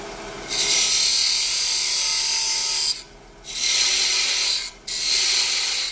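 A thin parting tool cuts into wood spinning on a lathe, making a loud, harsh, hissing scrape in three sustained passes separated by brief pauses, with the lathe's low hum underneath.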